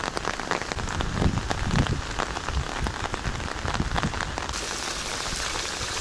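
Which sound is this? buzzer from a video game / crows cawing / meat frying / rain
rain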